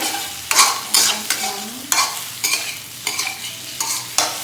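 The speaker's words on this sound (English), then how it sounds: "And then the next one is the shrimp. Yeah, and so fry." Shrimp frying in a wok for pad thai, with a spatula stirring and scraping in repeated sharp strokes about every half second over a steady sizzle, close and loud.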